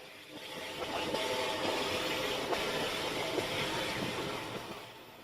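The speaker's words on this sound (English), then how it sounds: "our locomotive for the day, 92 Squadron, a Battle of Britain class locomotive" Battle of Britain class steam locomotive 92 Squadron on the Nene Valley Railway runs past with a steady, loud rumble and hiss of wheels and steam that swells and fades slightly, with no talking.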